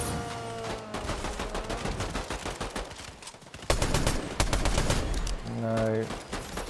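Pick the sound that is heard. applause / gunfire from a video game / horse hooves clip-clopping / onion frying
gunfire from a video game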